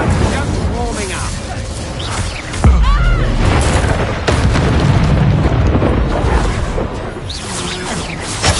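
Hogwarts Legacy combat with a Confringo spell blast, a heavy booming burst rising out of a constant din of explosions and magical whooshes, loud and close, with voices talking in the middle of the fighting.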